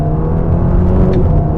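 Ferrari Roma front-mounted engine pulling hard in sport mode, a loud steady close-up roar with a strong low rumble rising slightly through the run, no talk over it.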